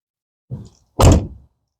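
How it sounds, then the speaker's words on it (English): Door of a 2007 Chevrolet Avalanche being closed: a soft initial bump followed by one solid, loud slam, then silence. "Let's close the door and see what happens."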